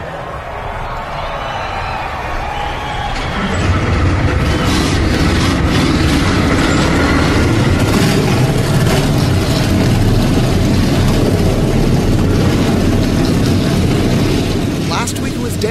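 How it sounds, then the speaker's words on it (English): Stock race cars at Martinsville's STP 500 fire up and rumble together as a loud, dense engine roar rises from a few seconds in and holds steady, with crowd noise and a commentator's voice over it. "start your engines."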